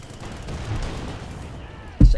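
Tank shell glancing off armour in the World War II strategy game Company of Heroes 2, a sudden loud metallic impact near the end after a stretch of rumbling battlefield ambience.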